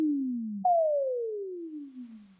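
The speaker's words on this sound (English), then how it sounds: "And there is this sine effect sound." A sine effect sound from a Kurzweil Forte synthesizer: a pure tone glides downward, jumps up to a higher pitch and slides slowly down again, clean and isolated.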